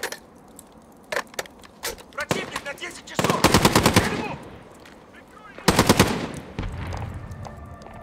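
Call of Duty Warzone gameplay: scattered single gunshots, then two loud rapid bursts of automatic fire, close by, with quieter shots between them.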